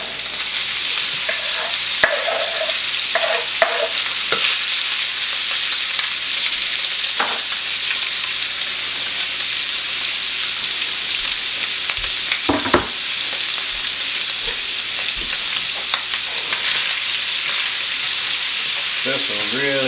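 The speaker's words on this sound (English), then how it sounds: "throw in the lobster and let it, oh boy, let it sear a little bit" Lobster searing in butter and oil in a pan for a New England seafood chowder, a steady loud sizzle and crackle with occasional stirring clatter, no voices.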